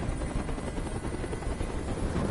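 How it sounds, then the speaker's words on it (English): A helicopter hovers overhead in the video game Detroit: Become Human, its rotor chop a steady dense thrum, loud and continuous throughout with no voices. "Tell that helicopter to get out of here."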